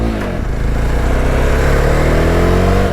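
A 2025 Jawa Bobber motorcycle engine runs while riding, a loud, close, steady thrum with rising pitch as it gently accelerates.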